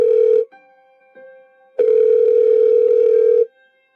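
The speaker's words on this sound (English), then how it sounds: "I dialed right away." A steady telephone dial tone plays loud and close in two stretches, broken by a quiet gap with a faint fainter tone, right after a number is dialed on the phone.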